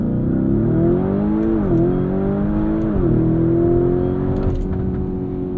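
A 2023 Lamborghini Urus S with a twin-turbo V8 launches hard under launch control, its engine roaring loud and close as the pitch climbs and drops through quick gear changes.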